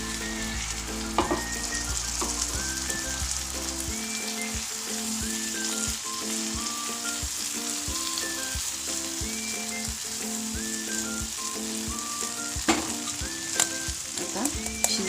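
Masala for matar paneer sizzles loudly in hot oil in a pan as the water used to rinse the mixer jar is poured in, a dense, steady crackle running throughout with soft music in the background.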